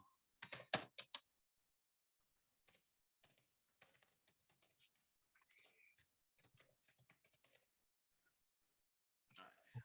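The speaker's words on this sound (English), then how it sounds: "I'm typing that information in." Typing on a computer keyboard, a close burst of loud clacks followed by scattered, quieter keystrokes in an uneven rhythm with pauses between them, with no talk over it.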